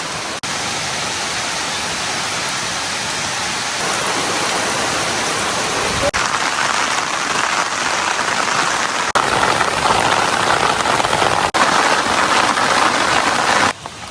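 Steady heavy rain pours down on a rainy day, a dense continuous hiss that swells slightly louder in the second half, with no voices.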